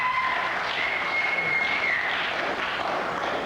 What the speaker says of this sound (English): Give me one more applause for old Ron.